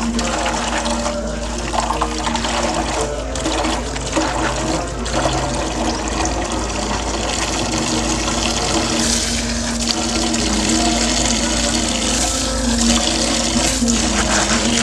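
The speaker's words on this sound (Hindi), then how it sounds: "अब इसको मैंने मुंह तक पानी का भर देना है" Water rushes steadily and loudly into a steel pot, filling it to the brim, a continuous splashing pour with a constant low hum beneath it.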